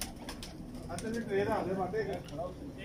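An old breeder pigeon coos softly nearby in a few low, throaty warbles, with faint background noise around it.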